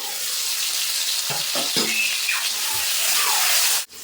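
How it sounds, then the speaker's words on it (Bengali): Potatoes frying with a little salt in a pan while a fish curry with ridge gourd is being cooked, giving a steady broadband sizzle throughout with a few soft stirring clatters, ending in a brief louder knock. "সামান্য পরিমাণ লবণ দিয়ে আলুটা লাল লাল করে ভেজে নেব"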